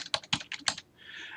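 A few quick bursts of keystrokes as a file name is typed on a computer keyboard, close and crisp, then a brief quiet tail.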